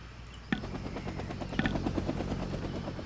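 Helicopters in a Vietnam War video game give a steady, loud rotor drone with rhythmic thumping, broken by a few sharp bursts that sound like gunfire.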